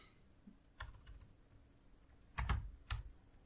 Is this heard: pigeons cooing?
no